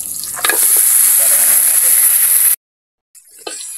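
Garlic and onion fry in a pan with a loud, bright, close hissing sizzle that cuts out abruptly to silence, then returns more faintly.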